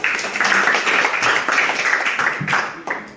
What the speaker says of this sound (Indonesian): Kita berikan aplaus untuk teman.